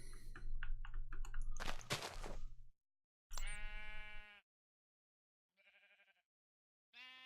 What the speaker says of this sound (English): More sheeps.